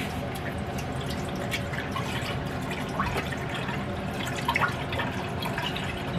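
Chicken broth pours into a Presto electric kitchen kettle, a steady close splashing and trickling stream with dripping sounds running throughout.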